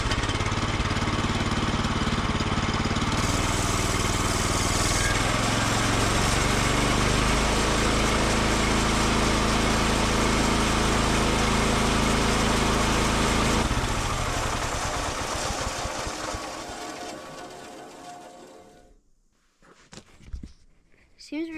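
A sawmill engine milling pine siding runs loud and steady for about fourteen seconds, then winds down and fades to near silence, followed by a brief clatter.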